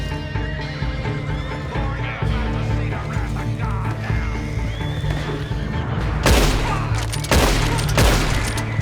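Rapid gunfire bursts in the Red Dead Online video game during a prison escape, over steady music with horse neighs and hoof clip-clop, loud and close.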